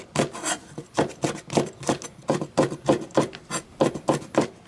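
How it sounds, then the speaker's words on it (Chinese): Knife chopping green beans into strips on a cutting board in a home kitchen, a steady run of about fifteen close, crisp cuts alone without talk. "豆角先转切成条。"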